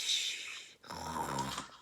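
A reader's voice mimics the wolf from Red Riding Hood snoring: one long, breathy hiss followed by a rumbling, throaty snore, close and fairly loud, with no other sound around it.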